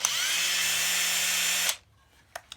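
A power drill spins a Forstner bit through wood for a cigar box guitar, boring out a hole for a piezo pickup; a loud, steady whine runs about a second and a half, then cuts off, leaving two small knocks.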